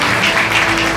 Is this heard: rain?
no